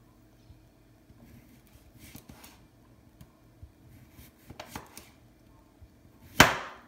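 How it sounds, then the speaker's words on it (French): A knife cuts thin slices of courgette in quiet, irregular soft taps and chops against a board, ending with a sharper, louder knock. "de fines tranches de courgettes"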